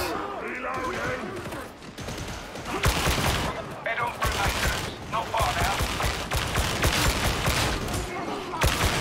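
Dense, sustained gunfire in Warhammer 40k: Darktide: a loud fusillade of overlapping shots and bursts that barely lets up, with voices talking over the chaos.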